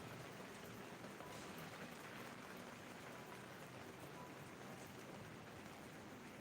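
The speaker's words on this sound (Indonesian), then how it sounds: "Cuacanya hujan." Rain falls steadily in an even, faint wash of patter that holds unchanged throughout, with no voices.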